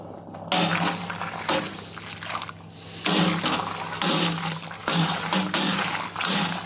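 Citra and Mosaic hops being stirred into hot wort in a Grainfather G70 brewing unit, giving a run of swishing, sloshing liquid sounds in repeated bursts under a steady low hum.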